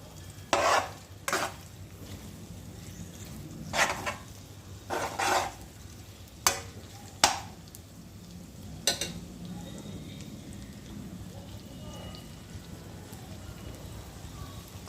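Eggs frying lightly in a generous amount of oil for egg fried rice: a soft, steady sizzle runs throughout, broken by several sharp scraping and stirring clatters of a utensil against the pan in the first nine seconds.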